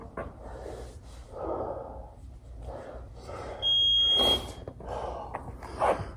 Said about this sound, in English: And that is our timer.